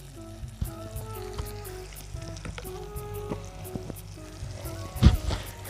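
Chili powder sizzles and fries in quail gravy cooked in a village kitchen, a soft continuous crackle with light stirring clinks and one brief louder scrape near the end.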